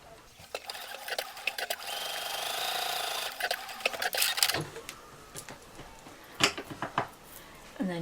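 A sewing machine runs in a steady burst for a few seconds, stitching the side seam of a fabric bottle holder. It then stops amid close handling clicks and taps.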